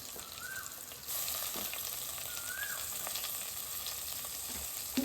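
Onions with mint and coriander sautéing in a pan for prawn biryani, a steady broadband sizzle with occasional stirring clatter that grows a little louder after the first second, with no talk.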